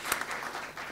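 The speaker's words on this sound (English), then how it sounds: "Can we give a big round of applause to you and all the ladies who are present here?" Brief applause from the audience at an Ayurveda health seminar and camp, a soft cluster of scattered hand claps that quickly fades.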